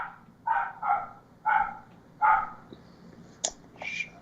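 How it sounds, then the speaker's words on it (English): A dog barks in four loud, close bursts spaced about a second apart, followed by a couple of sharper high yips, heard without talk amid a quiet room tone. "your dog made my dog bark"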